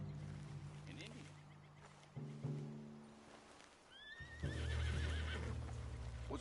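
A horse in Red Dead Redemption 2 whinnies and snorts, with clip-clopping hooves and low rumbling around it, the shrill neigh rising partway through over soft background voices.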